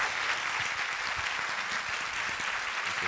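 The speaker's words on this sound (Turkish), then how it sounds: "Şimdi kuvvetli alkışlarınızla Alişan Kapaklıkaya hocamızı sahneye davet ediyorum" A theatre audience at a family-themed talk claps steadily, a thick, even wash of applause welcoming a speaker onto the stage, with no voices heard.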